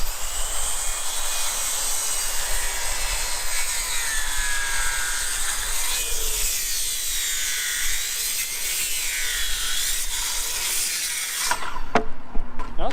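Saw biting through wooden boards for a bridge rebuild, a continuous rasping, whining cut with shifting pitch that runs steadily, then stops near the end followed by a few knocks.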